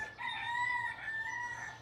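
A single rooster crows a long drawn-out call at middle distance on a rainy allotment, a little faint against a quiet outdoor background.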